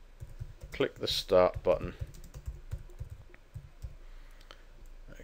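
Keyboard typing on a computer while entering text into a Flash CS6 project, with quick soft key clicks running through the clip under a man's speech in the early part.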